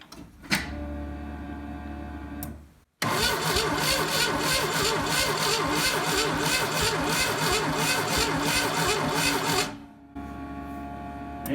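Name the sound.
1984 Pontiac Fiero engine cranking during spark test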